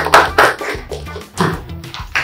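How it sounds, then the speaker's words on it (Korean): Audience clapping at a Korean club, a few quick bursts of hand claps that come and go, close and fairly loud, with no voices over them. "박수 한번 주세요."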